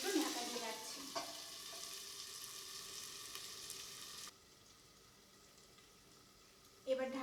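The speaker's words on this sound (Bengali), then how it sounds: "মশলাটাকে একটু কষতে দিতে হবে" Spice paste for a country chicken curry frying on low heat in a covered pan, a steady soft sizzle close by that drops quieter midway, then a brief clatter near the end.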